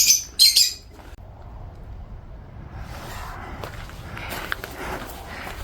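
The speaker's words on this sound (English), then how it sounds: "Here is the lovebirds in the cage, absolutely beautiful." Lovebirds chirp in a cage on the grounds of a villa with manicured gardens, with a few sharp, close tweets at the start and then faint rustling, footsteps and distant chirps.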